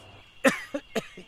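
Three sharp coughs in quick succession, close and fairly loud, the first strongest and the later ones slightly softer, with no talking.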